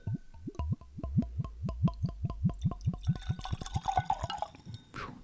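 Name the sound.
pouring Compass Box The Peat Monster scotch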